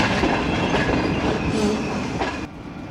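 The Karakoram Express rolls through a station on a single-line section with a loud continuous rumble and rhythmic clickety-clack of wheels on rail joints, heard close up before it drops off abruptly near the end.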